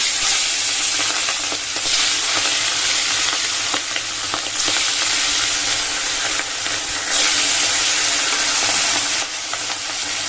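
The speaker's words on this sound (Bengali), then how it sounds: "চলো মাছটা ভেজে দিই" Hilsa fish frying in hot oil in a wok, a steady loud sizzle and crackle running throughout with brief swells of hissing, no voices.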